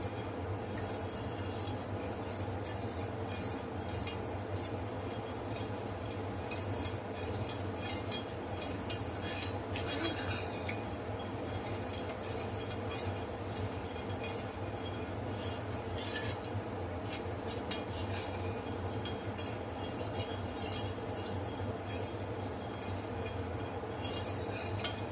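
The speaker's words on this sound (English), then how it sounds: "Mix it up well, I should say." Utensil scraping and clinking against a bowl while steak marinade is stirred, a steady, moderately close mixing sound with occasional metallic chinks.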